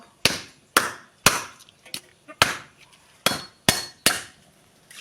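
Seven heavy, evenly spaced thuds ring out as a fish is pounded on a hard surface while it is being cleaned. Each blow is close, loud and sharp, with a short woody knock.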